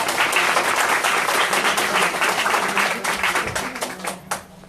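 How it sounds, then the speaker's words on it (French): An indoor audience at a Jewish religious talk before a shiur claps loudly and continuously in dense, steady applause that thins and fades over the last second. "j'aimerais vraiment qu'on applaudisse très fort le travail de Florence"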